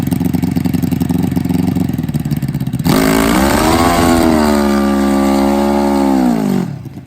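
A 600-horsepower nitrous Pro Mod Suzuki drag motorcycle runs loud and close, first a rough, pulsing idle, then a sudden jump to a high, sustained rev that wavers slightly before cutting off near the end.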